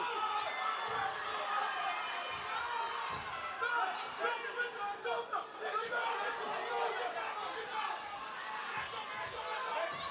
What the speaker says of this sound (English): Crowd getting behind, just trying to push her on now.